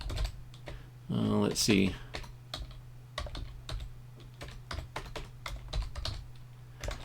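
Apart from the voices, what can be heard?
typing a username on a computer keyboard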